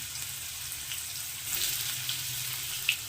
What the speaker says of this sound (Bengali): এবার আমি যে ঝিঙেগুলো কেটে রেখেছি সেই ঝিঙেগুলোকে দিয়ে দিচ্ছি